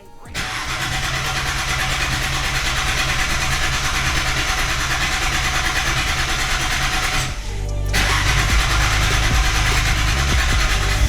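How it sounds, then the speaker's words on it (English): A classic Datsun 280Z with a new AN fuel line conversion cranks steadily for several seconds to pump fuel, then catches and starts, settling into a loud, close idle. "It's probably gonna have to crank a little bit to pump gas into the lines"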